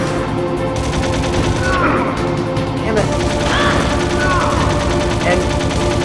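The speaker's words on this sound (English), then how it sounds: "And how many bullets am I throwing into him right now?" Rapid gunfire from the PS1 game Metal Gear Solid during its finale boss fight, loud continuous bursts of shots and impacts filling the whole stretch, with game music and effects layered underneath.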